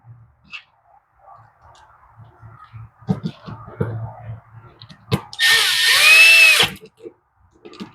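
A power driver runs screws into a Craftsman edger, with a short burst of whirring motor of about a second after scattered clicks and handling knocks, close and fairly loud in an otherwise quiet setting.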